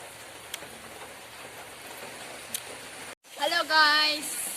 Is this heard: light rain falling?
yes